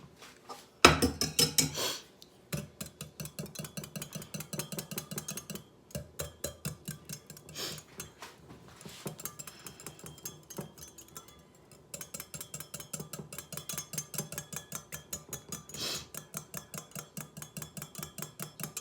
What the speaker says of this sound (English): Slowly whisk.